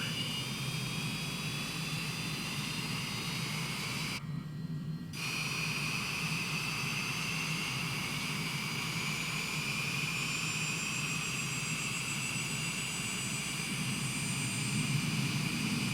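Steady jet engine roar inside an aircraft as the number 2 engine spools down, a broad continuous rumble with a high whine slowly gliding upward and a brief dropout partway through.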